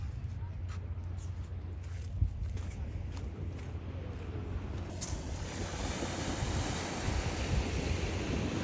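Ocean surf washing ashore on Manasota Beach, Florida, a steady broadband wash with low rumble and wind buffeting the microphone, continuous throughout with a brief louder gust partway.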